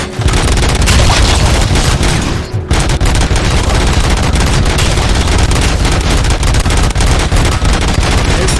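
Sustained, loud automatic gunfire in the RoboCop: Rogue City video game, a dense, unbroken barrage of rapid shots with heavy booms, pausing briefly near the middle before pounding on without letup.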